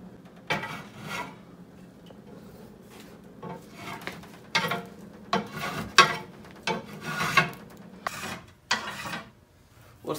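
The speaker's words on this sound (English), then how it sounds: "this side, since there's not much, we'll just use the hand planer" A hand plane shaves a hickory board being shaped into a longbow, with a series of short, dry, rasping strokes at an uneven pace close by over a faint background hum, with no speech.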